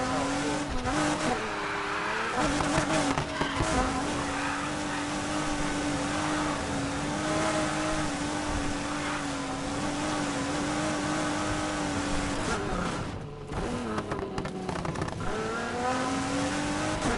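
A car in Need for Speed Heat slides and drifts with a steady high engine whine and sustained tire squeal, the pitch dipping and rising as it skids through turns, loud and close with no talking.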